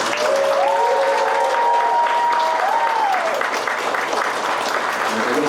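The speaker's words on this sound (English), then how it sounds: "can we just get another round of applause for our graduates?" Loud, sustained applause from a crowd honouring graduates at a high school graduation ceremony, a dense continuous roar of clapping with a brief tonal whistle or cheer rising above it.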